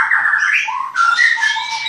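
Oriental magpie-robin (murai batu) chicks at a bird-breeding farm in Klaten give a continuous run of high, thin chirping calls, close and clear for the whole two seconds, with no voices.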